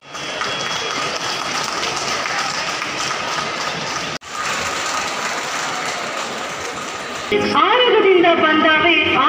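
Dense, steady audience applause at an inter-college cultural fest fills the clip, with a brief dropout near the middle and voices joining toward the end.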